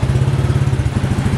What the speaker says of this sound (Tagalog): Sunod-sunod ang makina natin.